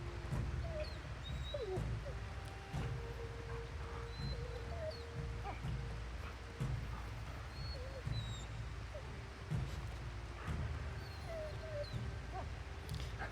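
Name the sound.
dog whining in video game Monster Hunter Rise Sunbreak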